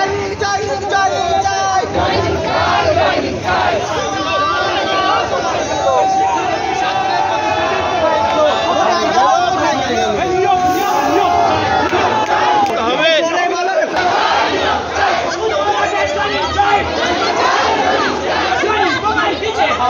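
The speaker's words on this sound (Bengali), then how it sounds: "সবচেয়ে বঞ্চিত তাই জয়নিং চাই স্লোগান" Job applicants protesting over upper primary teaching posts fill the air with a dense, loud crowd din of overlapping shouted voices and chanting that runs unbroken throughout.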